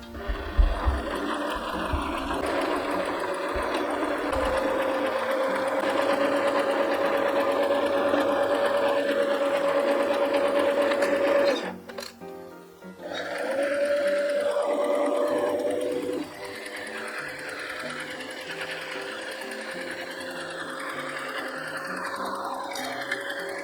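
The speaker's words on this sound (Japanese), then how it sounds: "ではミシン掛けをしていきます。" A sewing machine stitches kimono bolt fabric with a purple floral pattern into a large cushion, a steady close whirring drone that runs continuously, pauses briefly midway, then resumes before stopping and leaving quieter room sound.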